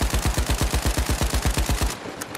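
Rapid automatic gunfire from a weapon in The Finals, about fifteen evenly spaced loud close shots in a steady burst that stops abruptly, followed by quieter distant clatter.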